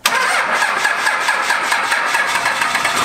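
A pickup truck engine cranks and catches on a weak battery, a loud close mechanical churning that holds steady for the full few seconds without any voices.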